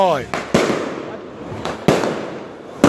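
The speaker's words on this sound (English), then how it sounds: "Loud explosion." Several sharp, loud bangs like firecrackers go off at irregular intervals, each with a short booming tail, and people talk in between.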